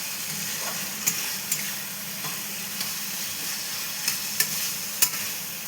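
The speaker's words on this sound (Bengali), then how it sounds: "এইবারে আমি এটাকে আটকে কষিয়ে নিই।" Spices, tomato and potato fry in a pan with a steady soft sizzle and hiss, punctuated by a few sharp clicks of a spatula against the metal.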